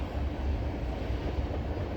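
A Norfolk Southern freight train rolls past in Gaffney, South Carolina, giving a steady, close low rumble with rail noise that holds at an even level throughout.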